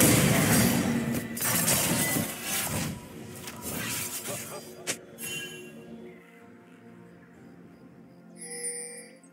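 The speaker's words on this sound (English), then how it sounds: "Blue team's turret has been destroyed." A turret being destroyed in a League of Legends match, with a loud shattering crash and glassy debris fading into quieter game ambience and a brief chime at the end.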